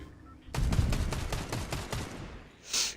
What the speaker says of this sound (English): And then RT to shoot.